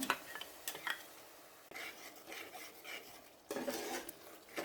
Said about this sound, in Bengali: এখন আমি আলুগুলো আগে কষিয়ে নেব একটু